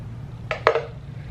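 Acai mixture scooped into a bowl and smoothed out, two short close scraping clinks of utensil against the bowl over a low steady hum.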